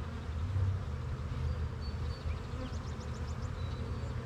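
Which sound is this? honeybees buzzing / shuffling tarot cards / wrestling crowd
honeybees buzzing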